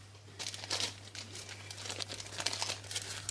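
A crinkly plastic sweet bag being folded up, a run of crisp crackling and rustling bursts lasting several seconds, close and moderately loud over a steady low electrical hum, with no talking.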